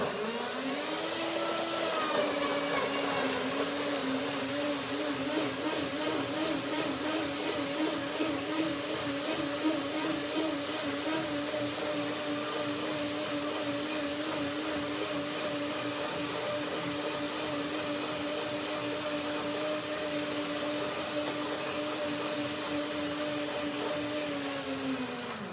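A countertop blender churns unsoaked cashews for a dill cucumber cream soup, a loud steady motor whine running continuously for the whole stretch with a slight pitch wobble as the mix tumbles down around the blades.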